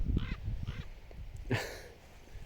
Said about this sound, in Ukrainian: Ворони полетіли кавун їсти